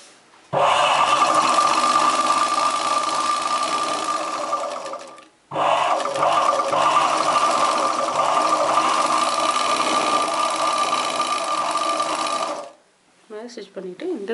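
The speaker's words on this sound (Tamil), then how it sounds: "ஃபஸ்ட் வந்து நம்ம இந்த மாதிரி வச்சுட்டு ஸ்டிச்சிங் போட்டுக்கலாம்." A sewing machine stitches a chudidar top in two long continuous runs separated by a short pause, loud and close, followed by brief handling noise at the end.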